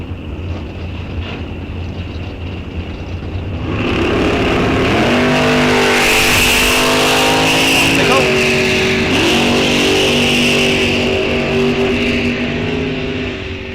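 Drag race cars launch at Rock Falls Raceway during an NHRA National Open event, loud engines roaring up with rising revs and gear changes from a distant idle rumble, while an announcer talks over the noise.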